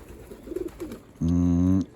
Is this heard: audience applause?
no